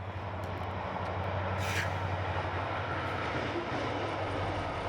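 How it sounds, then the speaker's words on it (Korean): A passenger or freight train passes Sapgyo station, a continuous heavy low rumble with rolling noise, steady and fairly loud throughout. "일반 열차는 물론 화물 열차까지 하루 40여 대의 열차가 지나는 삽교역"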